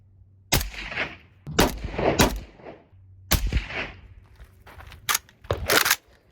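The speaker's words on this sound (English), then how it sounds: "see how it sounds with the gas shut off" A Yugo M70AB2 rifle fires with its gas shut off, several sharp loud reports one at a time with short echoing tails, spaced unevenly outdoors.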